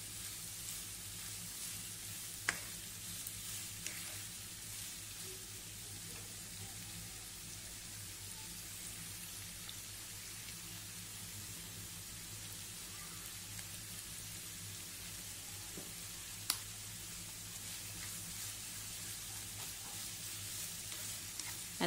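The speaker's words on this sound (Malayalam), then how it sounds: "നന്നായി ഒന്ന് ഇളക്കി കൊടുക്കുക." Onions and other ingredients frying in a pan with a pinch of salt for egg puffs, giving a steady, soft sizzle with light stirring and a few faint clicks, heard alone with no talking.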